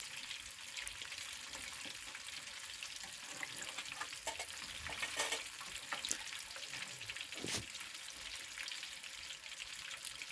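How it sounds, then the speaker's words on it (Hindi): Fish frying in a pan at an outdoor village fish party, a steady quiet sizzle with occasional louder spatters and clinks, no one talking. "ये फ़िश फ्राई तकरीबन हो चुकी है"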